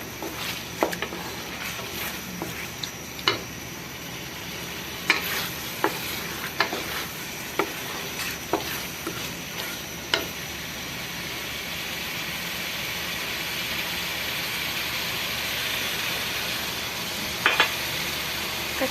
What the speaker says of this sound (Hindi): तेज़ आग पे भूनेंगे इसे।